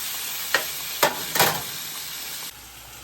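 Lemon pepper chicken sizzles on a grill with a steady frying hiss, and three brief scraping or shifting sounds stand out before the sizzle drops quieter near the end.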